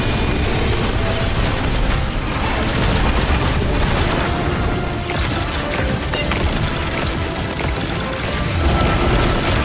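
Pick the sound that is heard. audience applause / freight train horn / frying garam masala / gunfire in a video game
gunfire in a video game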